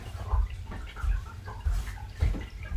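Pasta dough crumbs being hand-mixed with a small splash of water: wet, squelchy thumps of dough pressed and worked at a steady pace, close and fairly quiet, with no talk.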